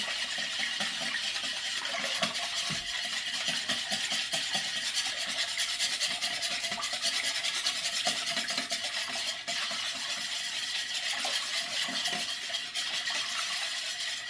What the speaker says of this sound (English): I just whisk it until it's all liquid